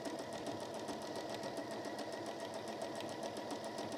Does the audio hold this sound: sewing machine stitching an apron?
yes